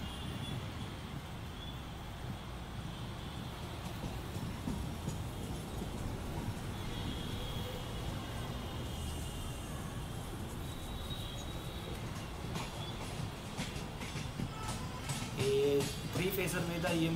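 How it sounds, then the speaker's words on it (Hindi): A Virar to Dadar fast local electric train arrives at Bandra station, a low continuous rumble and hum heard from a platform with faint squeals and clatter near the end, under a soft voice talking. "विरार से Dadar fast local Bandra station पर अराइव कर रही है"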